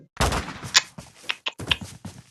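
Short, sharp pistol shots from a Minecraft Bedrock action mod come in a few quick, separate bursts, fairly close and loud, with brief gaps between them.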